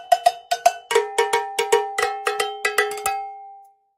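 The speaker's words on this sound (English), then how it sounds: "Everybody's gonna love the cowbell." Cowbell struck in a quick run of about fifteen bright, ringing hits, starting with a few rapid pairs and settling into a steady beat, each decaying briefly, played alone and close.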